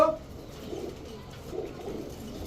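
Royal Teddy pigeons, a breeding pair, cooing softly and continuously at close range, a low throaty murmur rolling along without pause.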